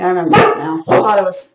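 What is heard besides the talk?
dog barking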